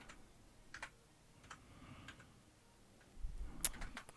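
Someone types on a computer keyboard during a Minecraft stream, a few scattered soft key clicks and taps with quiet gaps between them, close and without speech.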